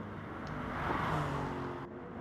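Lexus race car engine in a racing video game, a steady mid-level engine roar that swells and then eases as the car downshifts under braking, heard alone without talk.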